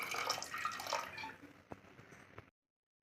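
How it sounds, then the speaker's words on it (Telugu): Plain water is poured into a pot of tamarind amaranth-leaf dal with tomatoes, a close splashing pour for about a second and a half that tapers into a few small drips before stopping, with no talking. "అలాగే కొద్దిగా నార్మల్ వాటర్ కూడా వేసుకుంటున్నాను."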